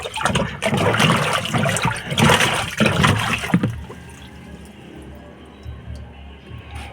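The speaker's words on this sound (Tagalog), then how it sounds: "Yan, nilagyan natin ng tubig." Water is poured into a vehicle gearbox during a gearbox replacement, a loud close splashing gush that tapers off into quieter trickling and dripping.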